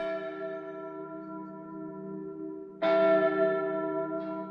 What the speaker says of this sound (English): All other times, bells called the women to work.